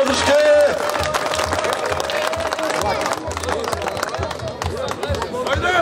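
An audience at the Radošić 2022 arm wrestling competition applauds with dense, continuous clapping and crowd noise throughout, while someone talks loudly over it on a public address.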